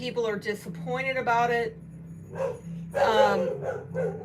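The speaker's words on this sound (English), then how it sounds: "Sorry about the barking." A dog barks and yips repeatedly in short bursts indoors, fairly close, overlapping with a person talking.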